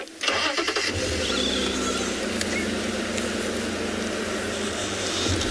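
A safari vehicle's engine cranks and catches, then settles into a loud, steady mid-pitched running drone close by as it starts to move off.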